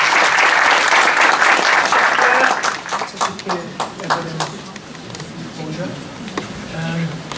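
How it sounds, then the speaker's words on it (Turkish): Audience applause in a university history lecture hall welcomes a guest speaker, loud and dense at first, then thinning into scattered claps and some murmuring before fading. "alkışlarla sözü Jason'a bırak"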